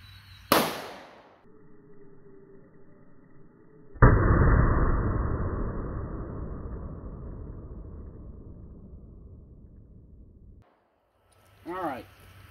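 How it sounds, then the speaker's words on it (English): A 9mm Gold Dot round is fired into ballistic gel and a water jug outdoors: one sharp loud gunshot, then a second heavy blast with a long decaying rumble, and a brief voice near the end. "We're going to try one more shot."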